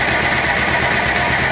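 A Bajaj Pulsar 220 motorcycle engine, freshly oil-flushed, runs at a steady idle close by, a loud, continuous mechanical drone with an even pulsing throb and no talking.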